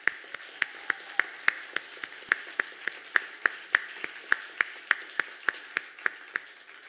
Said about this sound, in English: a big round of applause again to thank all of our speakers tonight